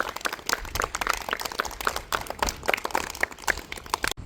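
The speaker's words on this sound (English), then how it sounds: "Give a big round of applause." Applause at a school investiture ceremony, a burst of many hands clapping at a brisk, uneven rhythm, fairly close, with no talking over it.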